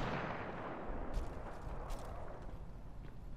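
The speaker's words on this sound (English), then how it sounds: "They are shooting someone on top" Gunfire in the Apex Legends video game, a faint, distant, continuous rumble of shots and booms with no voices over it.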